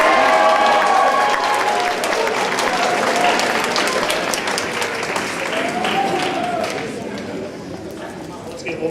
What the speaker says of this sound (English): Let's give one more round of applause for this outstanding leadership.